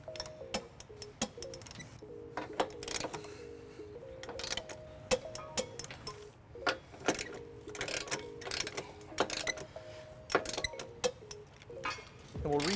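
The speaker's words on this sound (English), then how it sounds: "Now we're going to tighten and torque all of our bolts to the manufacturer specification" A ratchet with a 19mm socket and extension tightening trailer hitch bolts on a 2021 Infiniti QX60, rapid clicking ticks in uneven bursts with brief pauses, close and distinct under a quiet background.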